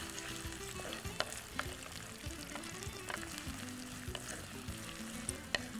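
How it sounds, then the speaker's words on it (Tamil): Curry leaves sautéing in a hot pan, steady close sizzle and frying crackle with occasional stirring scrapes. "நல்லா வதக்கலாம்"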